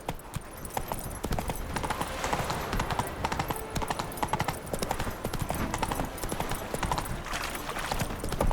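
Roach, the horse in The Witcher 3, trots with steady, continuous clip-clop hoofbeats, loud and close, over a dense game soundscape; a faint whinny may be heard.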